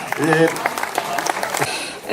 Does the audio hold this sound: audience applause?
yes